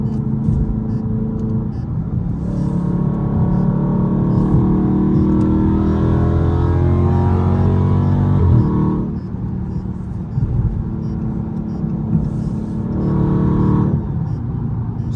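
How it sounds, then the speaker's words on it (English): A Scat Pack car engine hums and revs steadily from inside the vehicle on a highway, with a droning whine running under the rumble and brief dips in loudness. "Y'all hear that whine?"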